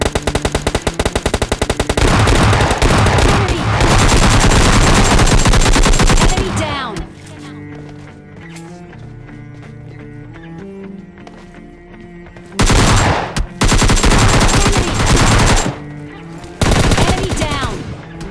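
Rapid automatic gunfire blasts loudly in a mobile battle royale match, long sustained bursts, then a lull, then more bursts of shooting at enemies.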